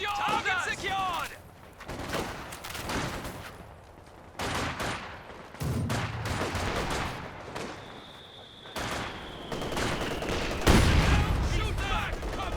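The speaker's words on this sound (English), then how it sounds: "He's got the Maxim. Machine gun ready." Bursts of Maxim machine-gun fire in Company of Heroes 2 rattle amid a busy battlefield, breaking off and starting again in stretches, with game voices and other combat noise mixed in.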